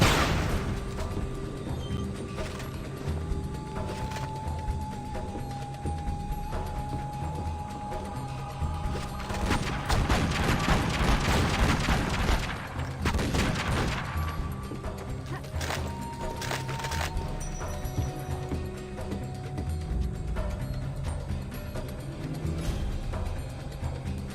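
Grenade blasts and gunfire in the action game Tomb Raider: Legend, with a heavy crashing explosion burst in the middle and sharp cracks scattered around it over a steady game soundscape.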